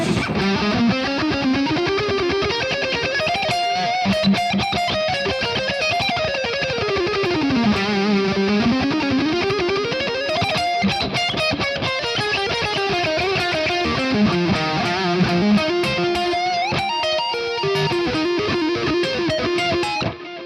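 A distorted electric guitar plays a sustained, singing lead melody with bends and slides over a dense backing, loud and continuous.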